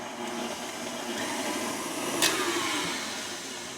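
An electric mixer spins cake batter for a plum cake after vanilla extract goes in, a steady continuous whir at close range that holds for several seconds with a faint tick near the end, no voices.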